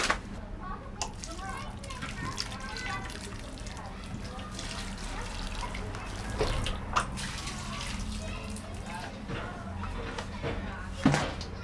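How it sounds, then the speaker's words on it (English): Water runs steadily as newly planted giant tomato plants are watered in, a continuous pouring and splashing wash with children's voices playing in the background. "and then water them in."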